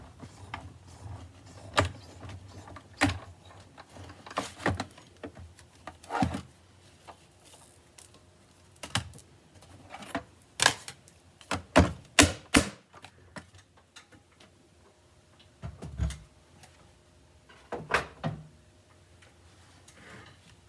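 A hand-cranked embossing machine presses a gift card through a traditional embossing folder sandwiched between two clear plates, giving off a run of sharp mechanical clicks and short ratcheting bursts, close and fairly quiet, with no talk.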